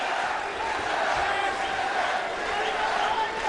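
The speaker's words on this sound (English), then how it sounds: "Listen to this crowd, their first taste of professional boxing." A dense professional boxing crowd in New Delhi roars steadily, a continuous loud wash of cheering and shouting with no breaks, the fans getting their first taste of a pro bout featuring Vijender Singh.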